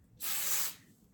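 Hair product is sprayed during a blow-dry at home in one soft, steady hiss lasting about half a second, heard close and alone.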